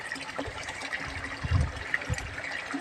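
Water runs from a pipe into a tank at a home in the early afternoon, a steady, close gushing rush that continues without a break.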